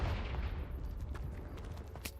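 Depulso and Confringo spells are cast in Hogwarts Legacy, giving dense rumbling blasts and sharp crackling bursts that run continuously at steady loudness, with a few brighter impacts toward the end.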